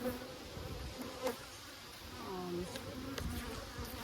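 Defensive honey bees swarm around a hive while nucs are being installed, giving a dense, continuous buzzing close by, with individual bees swelling louder as they fly past.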